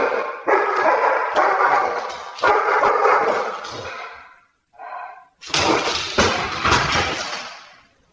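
Dog barking aggressively as it attacks, loud close bursts of harsh barks in quick groups, broken by a short pause and a thin whimper before the barking resumes.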